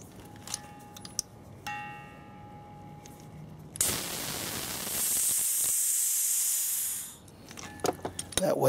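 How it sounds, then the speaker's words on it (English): Compressed air hisses loudly as pressure is bled from a PowerTank inflation line. A few faint clicks come first, then a steady rush lasts about three seconds before cutting off. "we're going to bleed pressure out of the line before we disconnect it"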